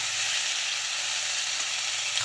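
Cut potatoes and amaranth stems frying in hot oil with panch phoron, a continuous bright sizzle with a steady hiss, close and even, with no voices.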